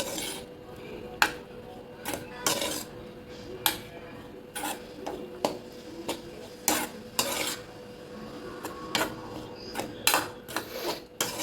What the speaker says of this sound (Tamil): எல்லாம் நல்லா ஒன்றோட ஒன்றா மிக்ஸ் பண்ணியாச்சு